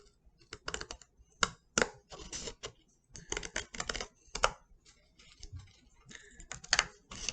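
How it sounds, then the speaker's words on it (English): Quiet, irregular snipping and crisp clicks of children's scissors cutting through paper, close by, in short bursts with brief pauses. "I'm going to take my scissors and I'm going to cut along where I drew the smiley face"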